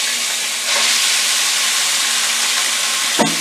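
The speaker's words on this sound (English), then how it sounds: "I'm going to put it in my frying pan that already have olive oil in it" Food frying in a pan of olive oil hisses in a loud, steady broadband sizzle that swells slightly as it goes, close up, with a brief clatter near the end and no talking.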